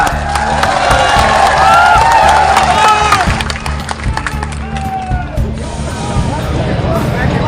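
Large outdoor crowd at an Akhilesh Yadav political rally in Chandla applauding and cheering, a dense sustained roar of clapping that fades slightly midway, with voices mixed in.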